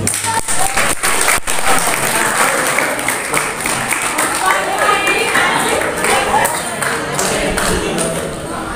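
Sustained applause from a school audience at a vocational high school Prophet's Birthday (Maulid) celebration, loud and dense throughout with crowd murmur and a few sharp thumps early on.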